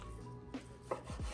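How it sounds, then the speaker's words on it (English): A knife slices filet mignon into cubes on a board, giving a few soft close cuts and dull thuds over a quiet background hum. "I'm going to be cutting up 2 filet mignons"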